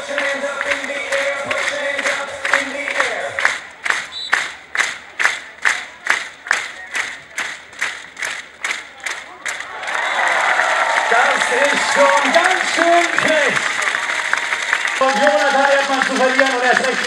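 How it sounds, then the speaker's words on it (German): A crowd at a beach volleyball match in Münster claps in a steady rhythm, then breaks into dense, loud applause and cheering while an announcer talks over it. "Großen Applaus und Kompliment."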